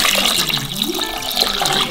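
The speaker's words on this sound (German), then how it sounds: "So, jetzt brauchen wir Wasser für die Suppe." Water is poured from a tap into a cooking pot for a pork and sour cabbage soup, a steady splashing gush that runs close and loud for about two seconds.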